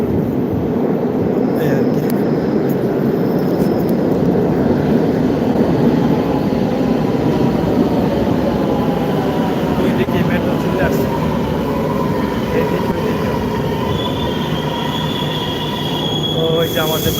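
A metro train pulls into a station at night with a loud, continuous rumble and rising high-pitched wheel squeal that grows and shifts over the whole stretch, heard close by.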